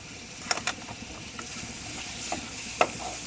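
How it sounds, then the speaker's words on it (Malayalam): Chicken with onion and garlic is stirred in a hot pan while pasta is being made, a steady soft sizzle with sharp scraping clicks of the spoon near the start and again toward the end, close and with no talking. "ഇതാ ചിക്കൻ അതിലോട്ട് ഇട്ടിട്ടുണ്ട് ഇനി ഒന്ന് എല്ലാം കൂടെ ഒന്ന് ഇളക്കി ഒന്ന് നന്നായിട്ട് ഒന്ന് മിക്സ് ചെയ്തെടുക്കാം"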